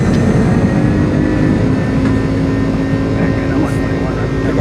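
Airbus A300 jet engines spooled to takeoff power in Microsoft Flight Simulator, a loud, steady broadband roar with low rumble and a faint tonal whine, continuous throughout.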